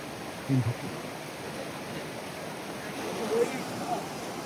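A team wades across a flooded river, with a steady broadband rush of fast water throughout and a few brief, faint splashes and knocks near the start and end.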